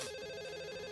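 A cartoon telephone rings with a bright, continuous electronic trill, a single short burst of warbling tone heard clearly on its own with no voices.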